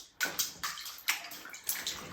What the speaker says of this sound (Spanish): El chapoteo de los niños